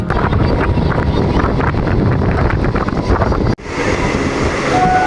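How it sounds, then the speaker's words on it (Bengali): Steady, loud rumble and rattle of a moving suburban train approaching Sodpur, West Bengal, with rushing wind noise, briefly cutting out near the end before resuming. "আমরা এখন ট্রেনে করে যাচ্ছি"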